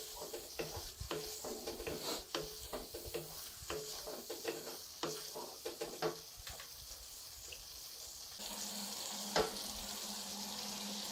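Chicken and vegetables are stirred in a pan, with irregular scraping knocks over a soft sizzle that turns into a steadier frying hiss toward the end.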